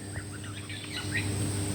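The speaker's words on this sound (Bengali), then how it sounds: "পাখির ডাক।" Birds chirp and call in a quick, scattered series over a low steady hum in a rooftop garden with small orange and guava trees on a darkening afternoon.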